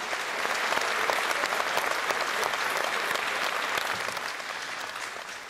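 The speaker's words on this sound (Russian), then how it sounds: "Ваши аплодисменты." Audience applause for a poet at a stage performance: dense, sustained clapping from a full hall, loud and even for several seconds before easing slightly at the end, with no talk over it.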